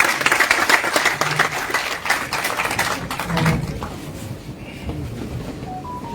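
Audience applause at a political party gathering, with dense, loud clapping from a crowd for about three seconds that then thins out and fades into quieter room noise.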